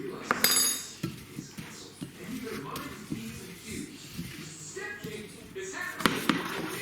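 Spices including chili powder, salt and turmeric are mixed into a tandoori chicken dish, with a spoon scraping and clinking against the pan in irregular strokes, close, under ongoing talk.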